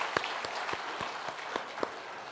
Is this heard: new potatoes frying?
no